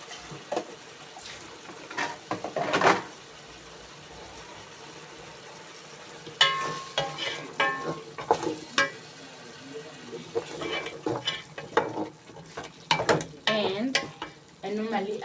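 Irish potatoes cook in a pot of mutton pilau, giving a soft sizzle with intermittent scraping and stirring clatter, close by and fairly quiet, in irregular bursts separated by calmer stretches.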